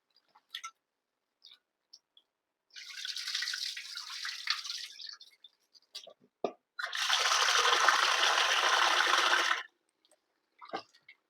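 Rice is washed and soaked in water for idli batter: two long gushes of running water poured into a vessel, separated and framed by scattered small splashes and clinks, close up.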